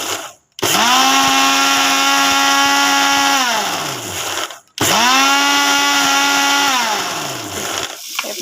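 A blender grinds mustard paste for a fish curry in two loud, sustained bursts, each starting abruptly and winding down as the motor slows, with a short pause between them.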